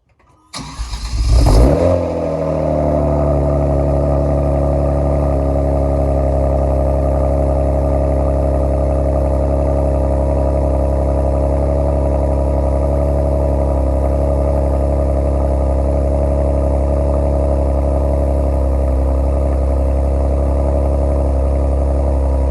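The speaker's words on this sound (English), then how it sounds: "Here, I'll do a cold start right now, show you how it sounds." A Kia Stinger GT fitted with MBRP carbon fiber exhaust tips cold starts close by with a sharp, loud flare of revs, then drops into a steady, droning fast idle that holds for about twenty seconds.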